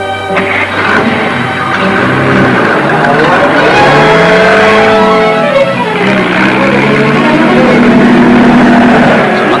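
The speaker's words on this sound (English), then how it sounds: "There's another car trailing us." A car from 1949 speeds along, its engine droning steadily and loudly with shifting pitch throughout, and no voices over it.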